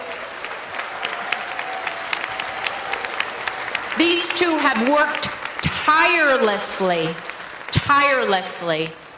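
Applause from a crowd at an outdoor park ceremony launching a commemorative quarter, a steady patter of clapping that continues under someone speaking over a loudspeaker.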